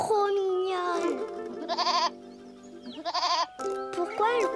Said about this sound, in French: Oh, la petite chèvre, elle est trop mignonne.